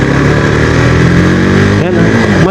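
A KTM RC 390 motorcycle engine revs hard and loud up close, climbing in pitch, then dips briefly during a quick gear shift before pulling again, with a rider's voice under the engine noise.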